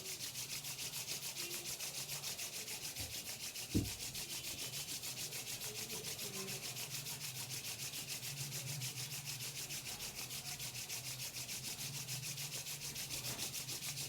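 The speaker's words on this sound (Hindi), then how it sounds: "30 सेकंड तक अपने हाथों को एकदम रगड़ते रहेंगे" Hands are rubbed together vigorously and without pause, a faint, steady dry swishing with a fast even rhythm that continues throughout, broken once by a brief knock.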